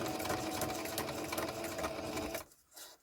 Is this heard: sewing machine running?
yes